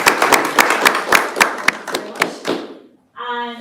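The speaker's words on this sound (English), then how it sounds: "We give a round of applause." An audience at an agritech product launch event gives a short round of applause, a burst of loud, close hand claps that thins out and stops, followed by a voice speaking.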